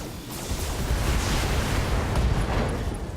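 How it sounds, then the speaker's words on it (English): An AC-10 autocannon ammunition explosion inside a mech in the BattleTech video game, a dense, sustained rumbling blast with heavy low-end roar that holds loud and steady throughout, without talk. "AC-10 ammo explosion, pilot injury there."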